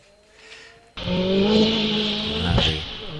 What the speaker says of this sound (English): Audi A3, turbocharged four-wheel drive